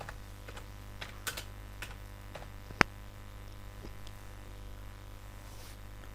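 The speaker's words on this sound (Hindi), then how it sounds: "यहाँ पर हमने टाइप करना होगा सबसे पहले PDF कन्वर्ट" Computer keyboard typing at a desk while searching to convert a PDF into Word, with scattered light key clicks and a few sharper taps, faint against steady low background hum.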